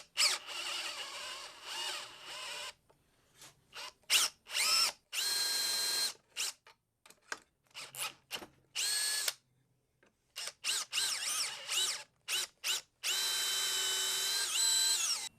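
A power drill whirs in short, repeated bursts with pauses between, close and fairly loud, marking a center point for a hole before tapping new threads for a stripped bolt repair.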